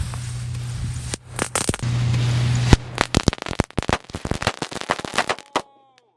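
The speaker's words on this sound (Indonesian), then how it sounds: "Mercon kretekan jumbo besar-besar guys. Kita nyalakan." A long fuse hiss and crackle, then a rapid, irregular barrage of loud bangs from large jumbo firecrackers bursting close by for several seconds before stopping.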